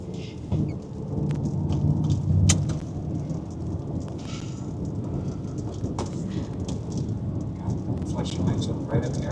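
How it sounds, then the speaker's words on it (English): Thunder from a nearby lightning strike rumbles through a storm with steady rain, a loud, continuous low roar with sharp crackles, while people talk over it. "there's lightning strike somewhere close"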